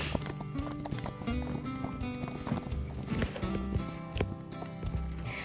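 Horse hooves clip-clop in a horse-riding video game, with an uneven, fairly quiet run of hoofbeats over a steady tonal backdrop.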